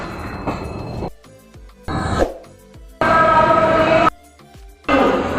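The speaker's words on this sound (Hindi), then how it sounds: "उसको हमारी ट्रेन अब ओवरटेक करके निकल चुके लखनऊ 4 बाग।" A passenger train, the New Delhi to Darbhanga Holi festival special, runs past and overtakes a Jammu Tawi–Varanasi superfast train near Lucknow Charbagh, with loud rumbling bursts broken by abrupt quieter gaps.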